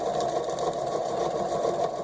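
A sewing machine stitching down the middle of a fauxdori paper insert, a steady fast mechanical whir with rapid needle clatter, close and continuous throughout.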